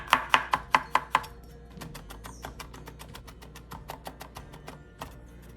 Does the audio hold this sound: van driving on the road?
no